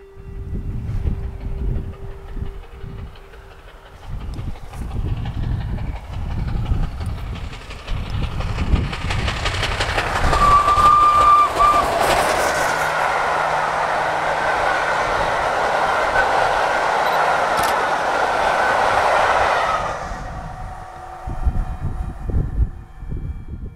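Flying Scotsman steam locomotive and its carriages rush past at speed, a loud sustained roar of wheels and rolling stock swelling in and then fading away, with a brief steam whistle blast in the middle and no one talking.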